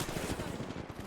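Rapid automatic gunfire from the Apex Legends video game rattles continuously through the full second, dense and loud with no pause.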